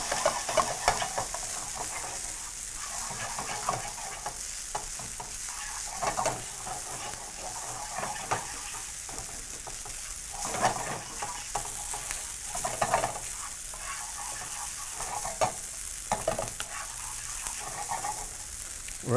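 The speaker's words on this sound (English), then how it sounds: "And proceed to add your cumin powder. And proceed to mix through." Cumin powder gets stirred into hot oil with a little olive oil in a pan: a continuous crackling sizzle with regular spoon scrapes and clicks running for a long stretch, no voices.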